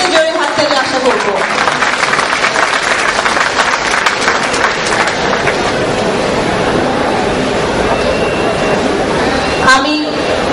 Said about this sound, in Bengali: জোরে হাততালি, আমি সবার কাছ থেকে জোরে হাততালি আশা করব।